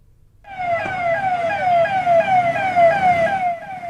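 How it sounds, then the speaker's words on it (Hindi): A loud wailing police siren sweeps up and down in rapid repeated cycles, close by, with traffic rumble underneath. "गुब्बारे लदी, सायरन बजाती पुलिस की गाड़ी।"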